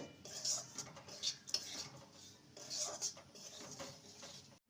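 Semolina being dry-fried and stirred in a pan for halwa, with a spoon scraping and clinking against the metal in uneven bursts, soft and close, with a faint voice in the background.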